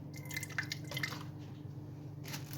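Vinegar drips and trickles into a bowl of chicken marinade, a string of small, close liquid plinks and splashes at low volume with no talking.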